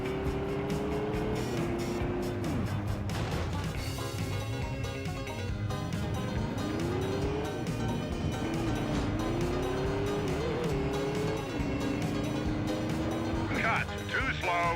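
Racing game on a slim PS2: a car engine revs and rises in pitch through gear shifts as it closes on and overtakes a pickup and a van. Loud, continuous music plays over it throughout.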